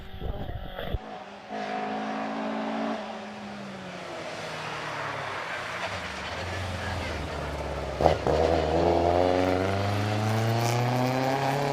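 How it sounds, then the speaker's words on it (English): Ford Escort twin cam racing car pulling away from the start line at the Prescott hill climb, its engine note climbing through rising harmonics under steady commentary, then a second burst of revs later as the pitch sweeps upward again. "The Escort twin cam sounding very nice off the line though"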